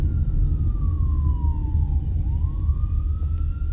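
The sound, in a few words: fire truck siren passing at a Las Vegas intersection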